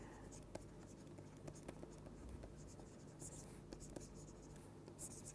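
Chalk or marker writing on a board during a physics lecture on lattice vibrations in solids, with steady soft scratching strokes and a few sharper taps over a constant room hum, and no talk.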